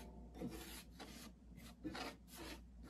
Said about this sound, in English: this is what you can expect from a sharp scraper